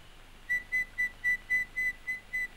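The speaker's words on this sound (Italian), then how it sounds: "Fischia." Someone whistles a steady run of eight short, even, clear notes in a quick regular rhythm, close and fairly loud, with no talking.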